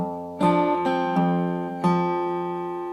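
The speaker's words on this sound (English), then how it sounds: "F bar chord, and it sounds like this" An acoustic guitar plays an F bar chord for a fingerpicking tune, with four plucked strikes ringing out clearly and sustaining between hits, close and alone.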